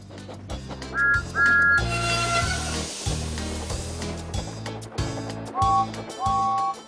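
Short high steam engine whistle toots sound in pairs over steady rhythmic chugging music, loud and close, twice near the start and twice near the end.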